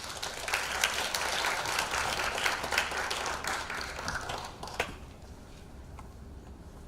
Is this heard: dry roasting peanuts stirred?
no